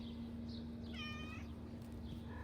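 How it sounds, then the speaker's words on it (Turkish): A house cat gives a single short, faint meow midway through a quiet indoor room tone with a steady low hum. "Bu da sürekli sürtünen bir kedidir"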